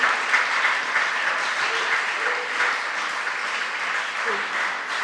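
Audience applause at a junior science and maths quiz national championship quarter-final, a steady, dense wash of clapping lasting the whole stretch at even loudness, with faint voices mixed underneath.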